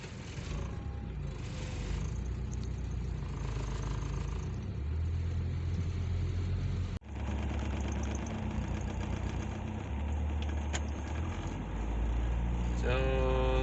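A car engine idles with a misfire and fluctuating RPM, a loud continuous rumble with uneven low pulsing that briefly drops out midway, with no voices over it.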